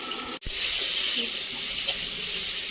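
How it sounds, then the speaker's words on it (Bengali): Water in a pot starting to heat on the stove, giving a soft, even hiss that holds steady except for one brief dropout early on. "জল কিন্তু গরম হওয়া শুরু করে দিয়েছে ফসো করে আওয়াজ আসছে"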